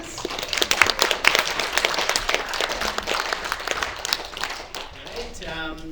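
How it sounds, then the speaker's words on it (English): A film festival crowd claps and cheers at a screening Q&A, with loud, busy applause that peaks early, then thins out as a voice begins speaking near the end. "A round of applause for all the films and all the filmmakers"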